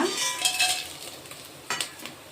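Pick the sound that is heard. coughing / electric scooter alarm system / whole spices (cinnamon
whole spices (cinnamon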